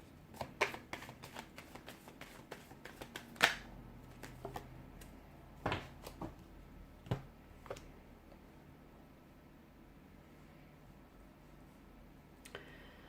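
Cards are shuffled and riffled close by, with scattered sharp flicks and snaps, busiest at the start and thinning into quiet handling.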